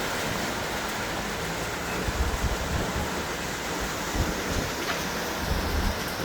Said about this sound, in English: and then the rain set in